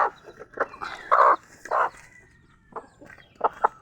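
A hen with two chicks on a backyard poultry farm clucks in short, close bursts with pauses, mixed with brief higher peeps, and nothing else plainly heard.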